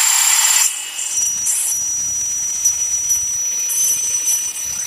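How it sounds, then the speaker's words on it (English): A power drill works on a budget go-kart build, a steady high-pitched whine running almost continuously and fairly close, with brief dips and restarts in pitch. "Don't drill the exhaust now."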